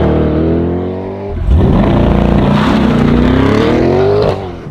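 A 2020 Chevrolet C8 Corvette launches from a standstill with brake and throttle held down. Its engine note climbs from a deep rumble into a loud, rising rev that holds strong for several seconds, with no talking.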